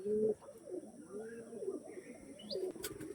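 Soft, low pigeon coos repeat steadily in the foreground, with a few faint chirps and a brief rustle near the end.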